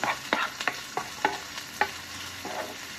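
Onions sauté with garlic in a hot pan, a steady sizzle broken by repeated close scrapes and taps of a spoon stirring, with no voices.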